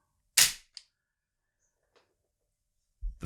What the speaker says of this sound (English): the force of your shot will actually open the bolt, chuck out the empty